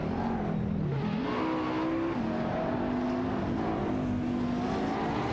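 Race cars in an AI racing video game, including a Lamborghini Aventador SVJ and a McLaren, with a continuous droning engine whine whose pitch rises and falls steadily, loud and unbroken.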